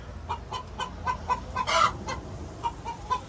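Chickens clucking in a coop in a steady series of short calls, one louder squawk in the middle, fairly close and without talk.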